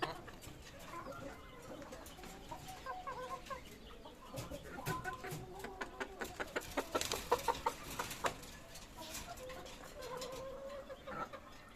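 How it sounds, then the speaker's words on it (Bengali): Farmyard hens, including egg-laying hens, and roosters cluck softly nearby in a steady run of short, repeated calls. "এই হলো আমার মোরগ মুরগি।"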